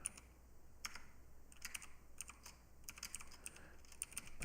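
Computer keyboard typing sounds quiet and close, with irregular bursts of sharp key clicks and short pauses, heard alone without talk.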